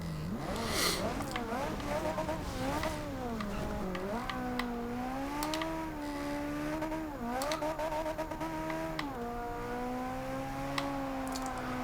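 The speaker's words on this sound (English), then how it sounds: "half throttle around corners seems to be the best way to take a corner in this car" The engine of a Ferrari 458 Speciale in the racing game Forza Horizon 2 whines at high revs, rising and falling through gear shifts and corners, with occasional tire squeal and a voice talking over it.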